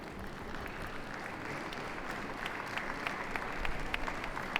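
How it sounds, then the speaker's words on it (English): Steady applause from an audience at a junior handling dog show final, a dense even patter of many hands with a few sharper claps near the end, continuing without a break. "The more you clap, the warmer your hands will get."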